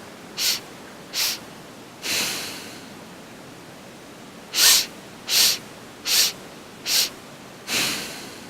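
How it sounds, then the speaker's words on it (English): Short sharp sniffs through the nose, close up, come in quick sets separated by longer, softer breaths. "So it's sniffing in 4 breaths, and then 1 long exhale."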